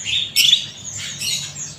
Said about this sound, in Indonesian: Nah ini ada stok dari burung murai trotol Medan ya.